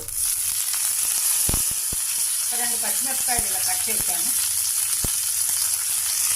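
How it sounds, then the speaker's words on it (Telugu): Steady, loud sizzling of curry leaves, mustard seeds and chana dal frying in hot oil, with crackles and pops, while a person speaks over it. "పోపు వేగింది ఇందులో ఓరేమో కరివేపాకు"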